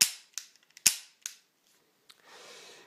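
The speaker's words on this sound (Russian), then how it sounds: "можно стрелять как предварительно взведя курок, так и самовзводом" Hammer of a Fort-12G gas pistol snapping on double-action trigger pulls: several sharp, close metallic clicks at uneven intervals, two louder than the rest, followed by faint handling rustle.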